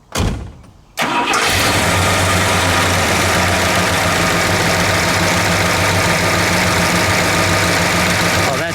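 A 1969 Dodge Charger R/T with a 426 Hemi V8 cranks over and fires at about one second, then settles into a loud, steady, lopey idle close by for the rest of the clip.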